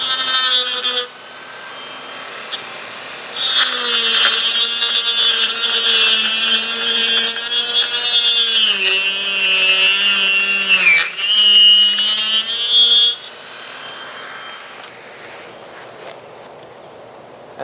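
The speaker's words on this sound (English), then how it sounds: "Get my Dremel tool. I'm going to Dremel out these areas right in here." A Dremel rotary tool grinds out areas of a foam RC model of an Emirates 777-9X airliner, its high, steady whine rising and dipping in pitch as it bites, in two long close bursts separated by a pause.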